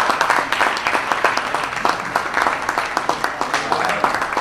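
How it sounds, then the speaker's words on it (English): An audience at an Opportunity Zone conference in Iowa applauds WSP, John, Andrew and the crew, a dense, steady round of clapping with sharp individual claps standing out close by. "can we please give them a round of applause?"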